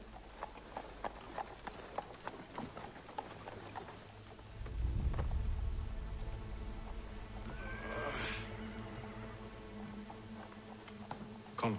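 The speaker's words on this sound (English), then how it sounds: "Oh, it's raining." Quiet rainfall in the video game Assassin's Creed III patters over horse hooves clip-clopping, with a low thunder rumble swelling partway through and a few other faint game sounds.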